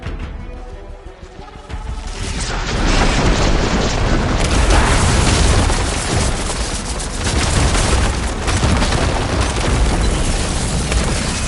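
Ballista shots in Horizon Forbidden West ring out as loud booming impacts and crashes, building after a quieter start into a sustained roar of blasts and debris.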